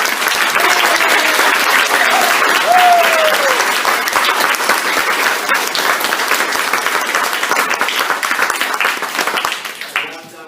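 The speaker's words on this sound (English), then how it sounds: "A big round of applause." An audience applauds loudly after a Year 5 school violin concert, dense steady clapping that fades toward the end.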